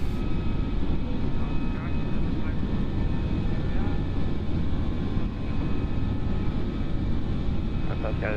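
Jet engines of an FSLabs A321 airliner in Microsoft Flight Simulator 2020 roar in a dense, steady cabin-style drone during climb, with a voice talking faintly underneath.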